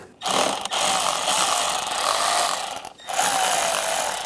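A power tool whirs steadily while loosening a worm clamp with an 8mm socket on a 2010-2016 Cadillac SRX engine, running in two long close bursts with a brief pause between.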